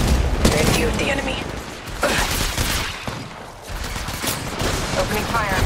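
Dense gunfire in the mobile battle royale game Apex Legends Mobile: rapid bursts and fusillades of shots keep going loud and close throughout, with voices talking over the shooting.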